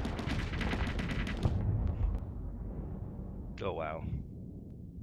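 Torpedo impacts in a Starsector space battle, a dense run of loud booming hits and crackling blasts for about two seconds, then a few scattered thuds and a rumbling tail, with a man's brief exclamation near the end.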